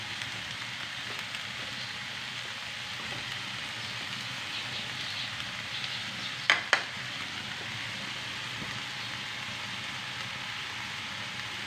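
A hotdog fries in a pan with a steady, even sizzle throughout, and two brief sharp clicks cut through near the middle.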